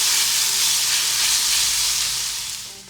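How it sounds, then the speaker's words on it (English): Bacon frying in a pan sizzles and crackles steadily with a bright, hissing spatter, loud and close, easing off slightly at the end, with no talking. "And you just want to cook your bacon until it's done."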